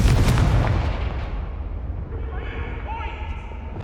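A Confringo fire spell goes off in Hogwarts Legacy with a loud booming blast at the start, then a rumbling tail that fades over a few seconds while faint tonal game sounds rise.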